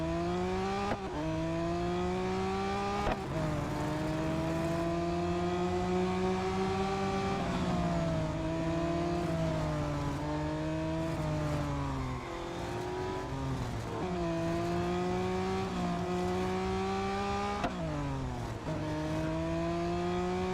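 Race car engine in Real Racing 3 revving continuously, with rising and falling pitch through repeated gear changes and brief lifts, loud and steady, no voices.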